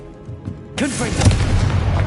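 Confringo explosive spell blast from Hogwarts Legacy: after a quiet start, a sudden loud booming burst erupts with crackling, swooshing magical debris that rumbles on to the end.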